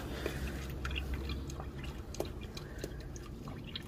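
Coolant draining from the radiator of an Infiniti M45 with a VK45DE engine, a steady close gurgle and trickle of liquid with small drips and splashes over a low background rumble, no talk.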